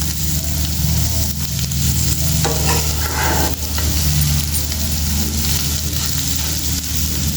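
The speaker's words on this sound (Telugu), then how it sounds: "మంచిగా ఫ్రై అయిపోయింది" Eggs frying in a pan for a spiced egg fry, a steady loud sizzle running throughout with occasional stirring scrapes, close and continuous with no talking.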